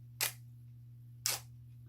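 A camera shutter on a one-second exposure snaps open and then closes a second later, two crisp mechanical clicks standing out against a quiet, steady hum.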